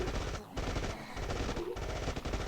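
Defense turrets in State of Survival firing at enemies in rapid automatic bursts, loud and close, broken by brief pauses between volleys, with no talk.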